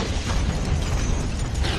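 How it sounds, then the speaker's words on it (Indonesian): A bomb goes off inside a clothing store in a film scene, a loud sustained roar of blast and debris with rattling, crackling mechanical clatter throughout, dense and continuous with no speech. "tiba-tiba ledakan bom terjadi di toko pakaian."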